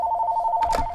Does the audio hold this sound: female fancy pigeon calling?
no